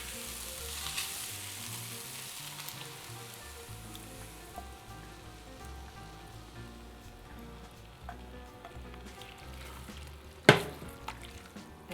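A good stir through a sizzling pan of meat for Swiss Rahmgeschnetzeltes before the cream goes in, a continuous crackling fry close up with a sharp scrape or clatter near the end.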